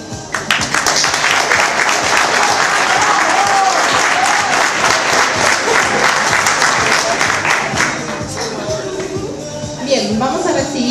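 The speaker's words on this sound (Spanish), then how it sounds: "vamos a dar un aplauso a Yamila" Sustained crowd applause for the dancer Yamila at an Arab dance performance, dense even clapping that holds loud for the whole stretch with brief swells at the end.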